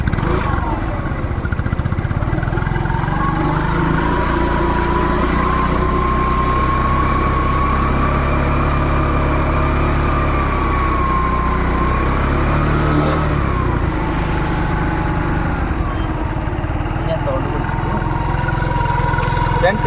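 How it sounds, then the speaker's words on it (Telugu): A motorcycle offered for sale idles steadily after starting, its low, even engine drone loud and close and continuous throughout without revving. "ఇంజన్ సౌండ్ కూడా వినండి"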